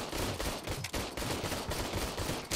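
Gunfire at the shooting range in RoboCop: Rogue City, rapid repeated shots in a near-continuous burst, loud and close, with no voices.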